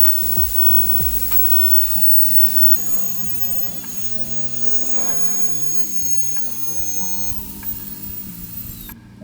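A KiCA Jet Fan Max blows air at a t-shirt draped over a deck chair outdoors, a loud, steady rushing whoosh with a shifting motor whine that holds for the whole stretch.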